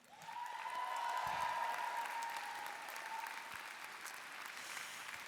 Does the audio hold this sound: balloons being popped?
no